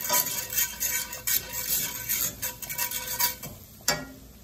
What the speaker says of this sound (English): Stir it all around.